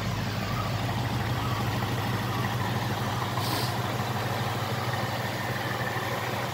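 A 2018 Ford Mustang engine idles at a steady low rumble during an oil change, an even, continuous hum with no revving, faint background music, and no talk.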